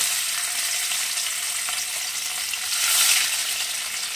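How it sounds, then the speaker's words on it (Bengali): Cut paneer pieces fry in hot oil in a pan, producing a close, steady sizzle with soft crackles that swells briefly near the end. "আমি কেটে রাখা পনিরগুলো এবারে একটু ভেজে নেব"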